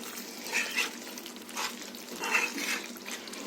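Chicken fry sizzles in a hot pan as it is stirred, with a steady crackle broken by several brief scraping, swishing pulses close by.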